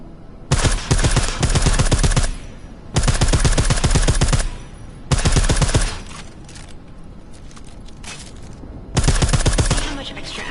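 Suppressed gunfire in Deus Ex: Mankind Divided, four loud bursts of rapid muffled shots from a silenced weapon, each lasting one to two seconds and separated by quieter gaps.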